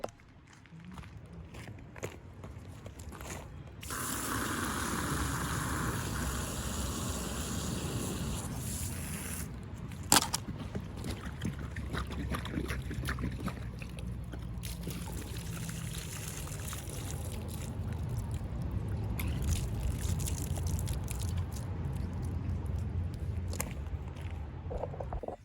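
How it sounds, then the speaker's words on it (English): Water from a garden hose spraying and splashing through an old push mower engine that sat for six years with water inside, a continuous hiss and trickle with brief knocks and handling sounds, fairly close. "So I'm gonna hose this out now"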